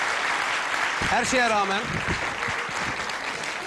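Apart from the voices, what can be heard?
audience applause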